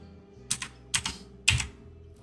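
Three quick bursts of keystrokes on a computer keyboard, typing into a YouTube search bar, close and fairly quiet with short pauses between bursts.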